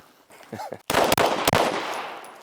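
Pistol shots during a timed shooting drill, a few sharp, loud cracks in quick succession after a short burst of voices, each shot ringing out briefly.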